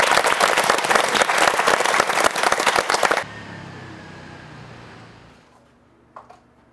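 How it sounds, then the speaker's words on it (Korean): Loud, dense audience applause at a Korean television tribute show, filling the first three seconds and then cutting off abruptly, leaving quiet room tone and a faint thump. "박수로 만나보시죠."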